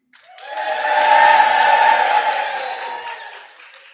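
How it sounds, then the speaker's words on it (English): A graduation ceremony audience lets out one big, loud cheer that rises quickly, holds for a couple of seconds and then tapers away, with a little applause mixed in. "I want you to give me your loudest and proudest cheer."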